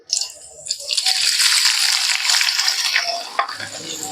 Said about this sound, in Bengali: এবার আমি পেঁয়াজগুলোকে একটু নরম করে ভেজে নেব।